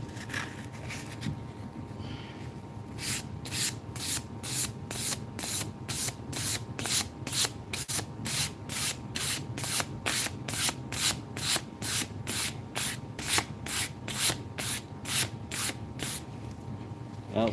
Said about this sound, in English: How I sharpen mine, a series of sandpaper.